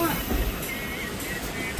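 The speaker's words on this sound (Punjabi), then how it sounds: "ਆਪਣੀ ਟ੍ਰੇਨ ਜਿਹੜੀ ਆ ਚੱਲ ਪਈ ਆ ਚੰਡੀ ਮੰਦਰ ਤੋਂ" Kalka–Ambala Cantt passenger train pulling out of Chandi Mandir station, a steady low rumble and rolling clatter of the carriages, close and continuous throughout.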